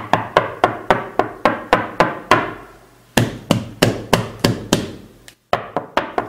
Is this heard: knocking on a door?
yes